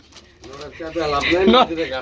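Large long-beak pigeons cooing close by in a coop, soft throaty coos building in loudness, under someone talking.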